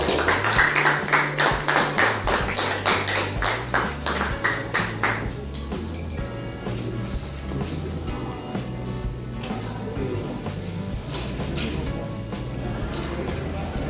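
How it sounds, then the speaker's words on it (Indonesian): A classroom of students gives a short burst of rhythmic clapping for five seconds, then it stops and quieter room noise with faint background voices continues. "beri tepuk tangan dulu"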